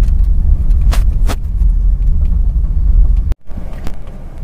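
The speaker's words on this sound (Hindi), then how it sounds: "मैंने इंक्रीज की आरपीएम की और ये मैंने सेकंड गियर लगा दिया" An old Honda City engine runs at raised revs in second gear, a loud, steady low rumble from inside the car with a few brief clicks and a sudden short dropout near the end.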